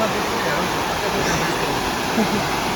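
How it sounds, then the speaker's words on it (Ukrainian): A small waterfall in a canyon gives a steady broadband rush of falling water. The roar is constant and fairly close, with no clear pauses. "Нарешті, нарешті його видно, цей водоспадик"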